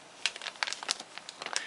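An ordinary quart-sized plastic sandwich bag is handled, giving a run of quiet, irregular crinkles and crackles with short gaps between them.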